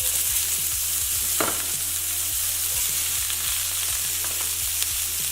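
Bell peppers sear in a couple of teaspoons of hot olive oil in a pan, sizzling steadily up close with a regular run of faint clicks and one sharper crackle early on, with no one speaking.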